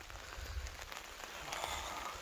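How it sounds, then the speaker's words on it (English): Heavy rain falling on a tarp at a wild camp in Scotland, a steady dense patter close by with no talking. "Not much of view tonight, pouring the rain"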